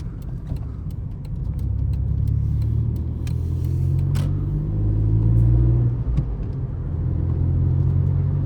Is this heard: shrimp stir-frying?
no